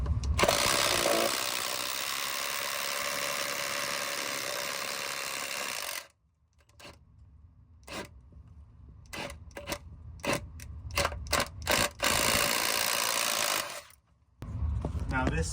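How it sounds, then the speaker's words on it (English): A power drill bores into an exterior house wall during fire alarm rough-in wiring, a loud sustained whine for several seconds, then a run of short bursts and clicks, then another long steady drilling run. "I think this is the spot to drill right here"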